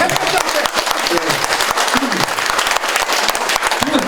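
Audience applause at a lecture event, a dense steady clapping crowd filling the whole stretch, with speech-like murmurs and a voice rising faintly beneath.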